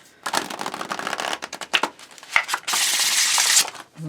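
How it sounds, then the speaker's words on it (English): A Magic and Medicine of Plants oracle card deck is shuffled close up in quick riffles and snaps, then a sustained burst of fast riffling near the end before it stops. "Get like a good shuffle in this one."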